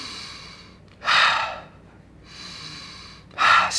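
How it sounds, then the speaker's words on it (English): Two deep, slow breaths close to the mic, each a loud breathy rush of air following a softer, quieter phase, evenly spaced with no voice over them. "taking 10 deep breaths"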